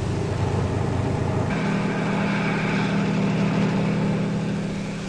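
Army helicopters landing at the edge of a village in a 1965 German military film, a loud, steady engine and rotor drone that holds throughout and shifts slightly in tone partway through.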